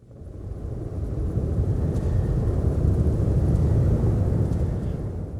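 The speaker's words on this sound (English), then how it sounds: "They can stomp." A choir stomps their feet to create a thunder effect, a deep, rumbling roar that swells gradually, holds steady and eases slightly near the end.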